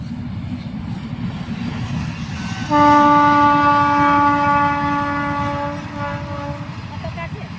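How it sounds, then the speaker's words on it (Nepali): A steady train horn blares for several seconds over the continuous low rumble of a passing train, then cuts off as the rumble continues. "ट्रेन पनि आयो"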